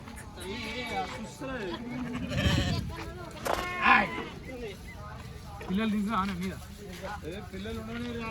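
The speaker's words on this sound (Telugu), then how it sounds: "చూడొచ్చు మంచి లోడ్, మంచి గొర్రెలు వచ్చినాయి అనమాట" Sheep bleat at a busy livestock market in Chilpur where sheep and goats are sold, with wavering cries rising through the crowd noise while someone talks steadily over them.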